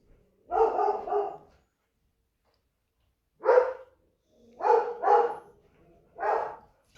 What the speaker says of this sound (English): And there's my dog now.